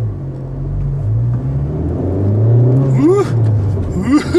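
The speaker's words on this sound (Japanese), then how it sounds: "アクセルね、半分も踏まなくて、レスポンスがすごいっすよね。" A Honda Civic Type R engine pulls hard under partial throttle, a loud steady low rumble rising gradually in pitch as the car accelerates, heard from inside the cabin.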